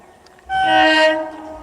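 A train horn sounds close and loud in one sustained blast of about a second as the train approaches, rising sharply and then fading out, in an open afternoon setting.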